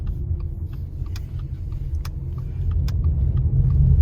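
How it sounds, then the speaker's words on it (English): Subaru Ascent engine droning low and steady from inside the cabin as the transmission surges coming off a turn, the rumble swelling slightly louder toward the end, with a few faint clicks over it. "Coming off of a turn, still a surge."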